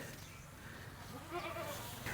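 A goat bleats faintly on a Pakistani village farm, a brief wavering cry rising late above a steady outdoor background hum.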